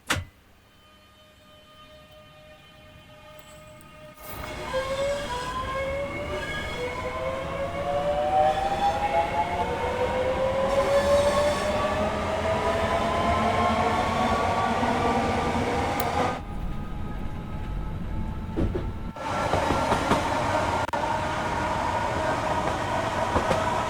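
A Southeastern electric train pulls away on the Faversham to Rochester route in Train Sim World 5, its traction motors whining upward in rising tones over a steady rumble, with a short dip partway through.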